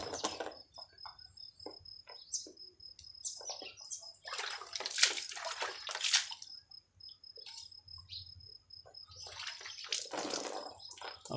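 Fresh tap water runs in uneven bursts while meat is rinsed, splashing and trickling close by with short pauses between pours and a faint background hum.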